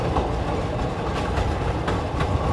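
Long freight train running on a hilly Swedish railway, a continuous loud rolling rumble with clickety-clack wheel beats and occasional squeals.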